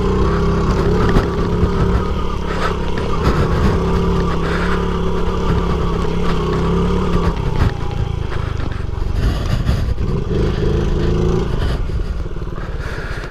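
A 1993 Honda Z50R mini motorcycle rides along a road, its small engine buzzing loud and close in a steady drone with slight pitch shifts as it holds speed.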